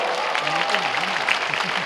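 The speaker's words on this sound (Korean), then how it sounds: "박수 한번 쳐주세요." A concert crowd at a New Hope music festival in Gumi applauds in a brief burst of steady clapping while a voice talks over it.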